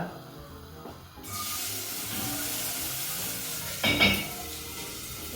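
Onion, celery and carrots sauté in a pan for pumpkin soup. After a quiet start, a bright, even sizzle rises and holds close up, briefly swelling louder near the end, with no talking.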